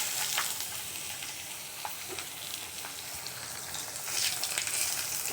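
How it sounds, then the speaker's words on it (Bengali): Rice frying in a pan for pulao gives a steady, faint sizzle with light stirring scrapes. It swells briefly toward the end, and nobody speaks. "এখন আমি চালগুলো ভেজে নিই।"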